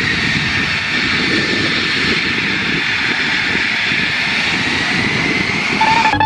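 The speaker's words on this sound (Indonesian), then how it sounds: "pesawat tempur untuk perang" A loud, steady fighter jet engine roar in Jurassic World Evolution 2 drones without a break, with a brief higher tone at the very end.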